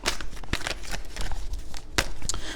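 Tarot cards being shuffled, giving close, continuous papery riffling and slapping with a few sharper snaps. The sound is fairly loud and runs throughout.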